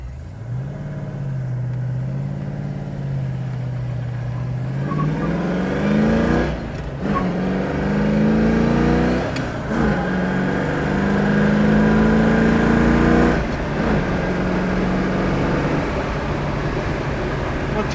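A 1970 Ford Mustang Mach 1 V8 engine pulls hard at half throttle and climbs in pitch, drops briefly at each gear change, then winds up again, loud and close from inside the car.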